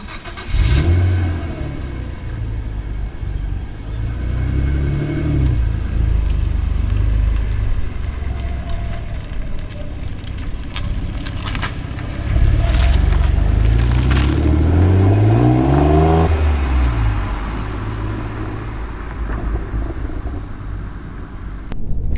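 A car on a road test drives and accelerates, its engine rumbling steadily from inside the cabin and rising in pitch through a couple of revving pulls, with no talk.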